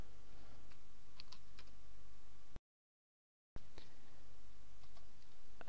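Someone types a username and password on a computer keyboard, a run of quick, soft key clicks close by, broken by a brief silent gap before the tapping resumes.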